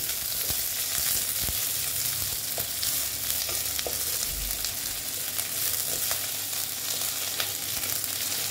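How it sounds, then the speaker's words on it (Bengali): Chopped onion frying in oil for aloo dum: a continuous, fairly loud sizzle with scattered crackles and light stirring taps, and no talk. "এখন আমি অল্প পেঁয়াজ কুচি দিয়ে দিলাম। দিয়ে আমি একটু ভেজে নিচ্ছি"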